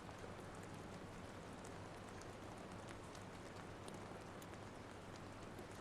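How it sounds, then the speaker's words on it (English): Steady rain falls in a Far Cry 5 level-editor game scene as a constant, even hiss with faint scattered drop ticks, quiet and uninterrupted. "Make it so it's raining."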